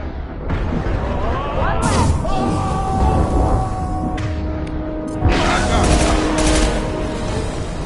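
Sustained automatic gunfire and booms from Blue Suns mercenaries and Vorcha in Mass Effect 2 rattle loudly in dense bursts, with a game voice talking over the combat.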